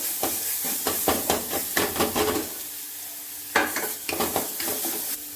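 Crushed garlic and onion sizzle in hot tempering oil up close, broken by quick rhythmic scrapes of a spoon stirring the pan.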